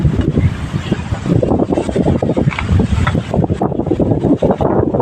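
Strong wind buffets the microphone in continuous rumbling gusts, loud and close, with no talking.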